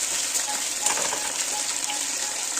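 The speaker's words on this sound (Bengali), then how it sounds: "গ্যাসটা লো করে কচুটা দিলাম, নয়তো তেল ভীষণ মানে ছিটকাবে।" Pieces of taro (kochu) fry in hot oil over a low gas flame, giving a steady, close sizzle with small crackles and pops scattered through it.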